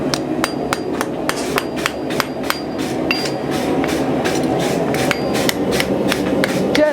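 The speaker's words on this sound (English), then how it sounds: "Just a nice little hammer, nice little blows." Light, rapid hammer blows ring out in a steady rhythm on metal at a farrier-style forging session, close and fairly loud, with a faint low background hum throughout.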